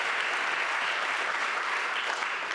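Crowd at a school district's State of Schools address gives a round of applause, a uniform, continuous patter of many hands, moderately distant and fairly quiet, with no talking over it.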